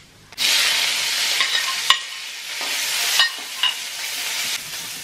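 Mustard seeds hit hot oil in a pan and splutter with a loud continuous sizzle, scattered sharp pops and crackles rising through it, close up with no talk.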